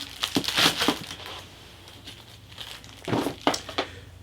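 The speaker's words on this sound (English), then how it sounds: "it's a resealable bag. So we'll just open it up here and have a look at what comes out first" A resealable plastic bag holding screws from a 1/48 Seversky J9 model kit is opened, giving a few close crinkling bursts of plastic, then a pause, then another cluster of crackles.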